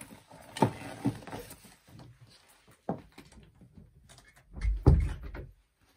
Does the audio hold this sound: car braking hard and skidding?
no